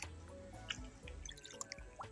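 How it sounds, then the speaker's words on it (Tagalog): Rainwater drips in a home backyard, giving a few faint, sparse taps and plops spaced unevenly against a quiet background, with no voices. "tubig ulan yan"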